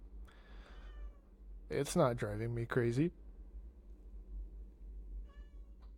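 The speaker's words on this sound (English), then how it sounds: "You can probably hear my cat meowing right now." A pet cat meowing indoors, one long drawn-out mid-clip call preceded and followed by fainter meows, close and fairly loud, while someone talks quietly.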